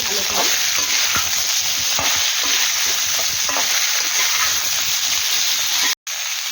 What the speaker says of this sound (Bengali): এটাও দিয়ে দেবো এবার নাড়াচাড়া করে নেব